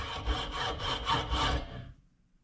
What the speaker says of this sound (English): The snap-on hacksaw.